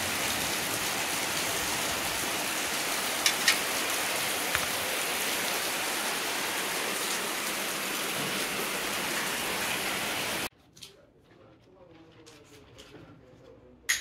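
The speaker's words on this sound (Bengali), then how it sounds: "আর ভালোই বৃষ্টি শুরু হয়েছে।" Heavy rain pours onto a house rooftop as a dense, loud, unbroken roar that holds steady for about ten seconds. It then cuts off abruptly, and a few faint household sounds follow.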